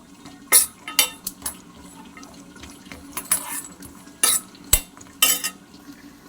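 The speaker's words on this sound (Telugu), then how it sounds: "ఒక 10-12 కాజు, ఒక 10-12 బాదం, ఇవన్నీ ఇప్పుడు ఫ్రై చేసుకోవాలి." Coconut, cashews and almonds dry-roasting in a pan without oil, with a spoon scraping and clinking against the pan in irregular strokes over a low, steady background hum.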